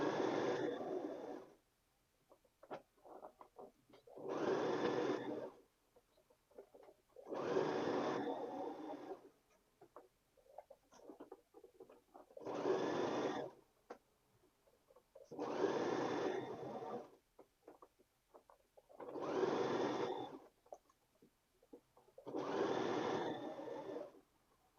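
A sewing machine stitches a half-inch seam allowance onto a shirt collar neckline, running in eight steady bursts of a few seconds each with short pauses between, close and moderately loud with no talking.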